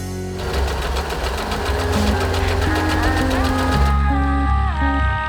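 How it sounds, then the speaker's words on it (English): A foot-operated Usha Janome sewing machine hums steadily, with a constant mechanical whir and a faint rhythmic rattle, accompanied by a background melody with sustained tones. "a foot-operated sewing machine with a triple-strength stitch function"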